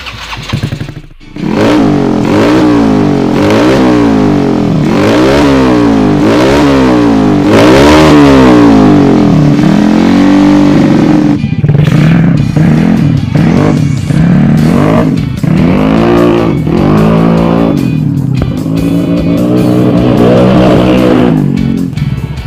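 A Yamaha Mio 150 cc scooter engine with modified rocker arms and cam profile revs repeatedly up and down, loud and close, with rising and falling engine pitch, then settles into a rougher idle with blips.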